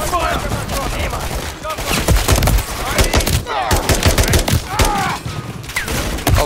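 Semi-automatic gunfire in Call of Duty Modern Warfare 3 snaps out in irregular single shots amid chaotic battle noise, loud and close, with short voice fragments mixed in.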